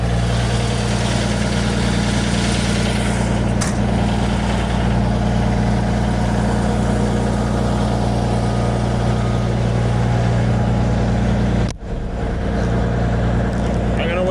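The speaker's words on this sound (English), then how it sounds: "That's a little early for high idle, but the mechanic did it, so why not?" Truck engine at high idle, fitted with a Jake brake and hauling a Commander, a steady deep rumbling drone with strong low tones throughout, close and loud, briefly dipping near the end.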